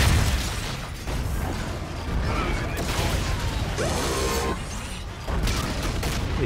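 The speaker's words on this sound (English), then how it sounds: "Is that the AC-130?" Heavy game gunfire and booming explosions from an AC-130 gunship in Call of Duty: Infinite Warfare, a steady dense barrage of thuds and bursts with mechanical clatter throughout, loud and continuous with brief lulls.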